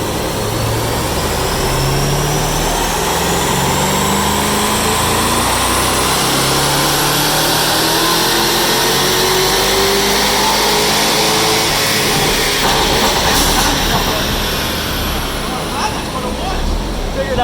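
A twin-turbo C8 Corvette roars on a dyno, a loud sustained engine wail that climbs steadily in pitch through a long pull, with turbo whine high above and a brief drop near the end.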